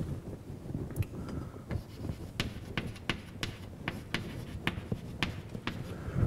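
Chalk or marker writing on a board during a physics lecture, with quick irregular taps and scratchy strokes coming in short bursts over a soft room hum, and no talking.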